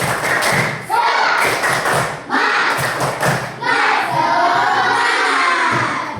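A classroom of students performs a rhythmic spirit clap in unison, loud repeated bursts of synchronized claps with short pauses, followed by shouting and voices.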